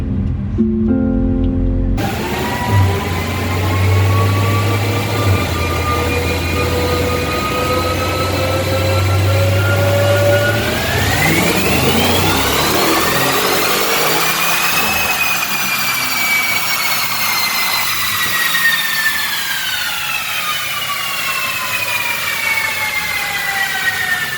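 A BMW M550i engine on a dyno roars steadily through a pull, its tone climbing smoothly in pitch as revs rise, loud and continuous for the whole stretch, with no talking over it.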